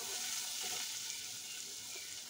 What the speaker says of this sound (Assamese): এতিয়া গোটেইখিনি মছলা ভালদৰে লৰাই দিম আৰু অলপ সময় ভাজি লম